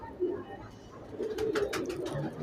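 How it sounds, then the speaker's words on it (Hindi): A breeder pigeon coos at close range, a soft low throaty call repeated over a couple of seconds, with people talking nearby. "बड़ा सीन कबूतर है।"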